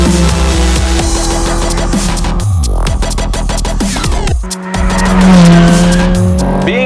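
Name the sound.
Ferrari F430 F1 engine and tire squeal on racetrack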